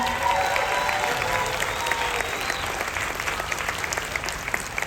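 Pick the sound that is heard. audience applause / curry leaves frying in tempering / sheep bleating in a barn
audience applause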